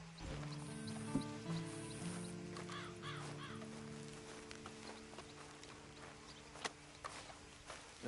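Horse hooves in Red Dead Redemption 2 clip-clop at a walking pace, mixed with a crow's caws and a soft whinny, all fairly faint and distant.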